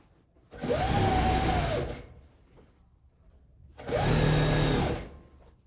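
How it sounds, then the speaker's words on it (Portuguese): A sewing machine stitching the lining fabric of a zipper pouch runs in two bursts of about one and a half seconds each, a close, steady motor whir with quiet pauses between. "Agora eu vou pregar o tecido do forro aqui em cima também."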